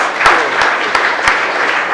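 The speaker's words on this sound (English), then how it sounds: "So, big round of applause for that." An audience at a Startup Grind event gives a round of applause after an interview, loud, close and dense, with a few louder individual claps standing out from the steady wash.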